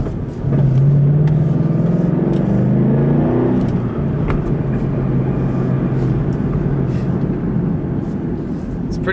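A 2013 Ford Mustang GT California Special takes a corner fast, its engine rumbling loudly and swelling briefly near the start before settling into a steady, heavy drone heard from inside the car.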